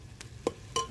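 Mutton keema, village style, stirred as it fries in a pan: two quick scraping clinks of a utensil against the pan over a faint, low background sizzle, with no talking.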